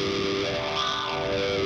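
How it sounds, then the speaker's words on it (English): Guitar played through a distortion effect in the AmpliTube app, giving a dense, sustained, buzzing, saturated tone that rings loud and steady without a break. "you can throw on some distortion, overdrive"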